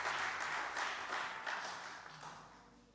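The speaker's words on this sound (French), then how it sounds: "Acclamons pour la chorale." Applause for a church choir at a worship service, a dense wash of many hands clapping that fades gradually, with no talking over it.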